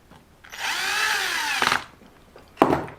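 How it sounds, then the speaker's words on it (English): Electric screwdriver driving bolts into the bumper of an LC Racing L6039 RC car, one whirring burst of about a second with a rising pitch, followed by a short clicking rattle and a brief second buzz. "So I am again going to use my electric screwdriver because it goes a little bit quicker."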